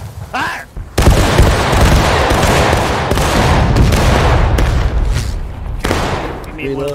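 A volley of musket fire from a Union line of the 7th Maine in the Civil War game War of Rights erupts as a loud, sustained crackling burst of many shots, with a voice briefly heard before and after.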